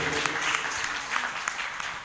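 A church congregation claps together in a dense, continuous burst of applause, fairly close and steady throughout.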